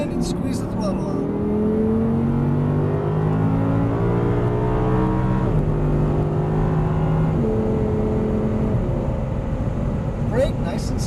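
Audi R8 on a racing track accelerating out of a turn, a loud engine drone rising in pitch through gear changes, with a person speaking over it.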